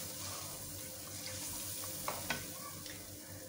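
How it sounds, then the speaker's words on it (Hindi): Mutton karahi masala with yogurt frying and being stirred in a pan, a soft steady sizzle with a couple of faint clinks from the spoon against the pan, quiet and continuous. "दही के साथ 5 मिनट तक इसे अच्छे से भूनिए"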